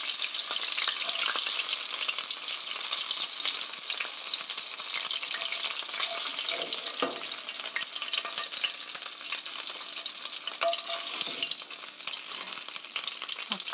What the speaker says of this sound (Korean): 자, 5분간 볶았더니 이렇게 노릇노릇하게 볶아졌습니다.